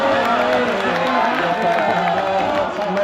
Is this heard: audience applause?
yes